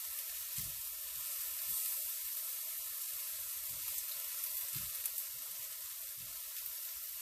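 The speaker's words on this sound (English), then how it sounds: "So we can go ahead and start flipping our shrimp over, cooked on that one side." Shrimp sizzling in a hot pan as they are flipped over, a steady bright frying hiss with soft thuds and scrapes from turning them.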